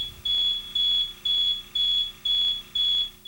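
A Rollins System VI master control unit answers with a high electronic beep repeated six times at a steady, even pace, loud and alone.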